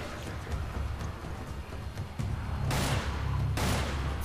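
Gunfire in the video game Resident Evil 5 during a co-op mission, dense continuous bursts of shots that grow louder and heavier in the second half, with brief sharp peaks.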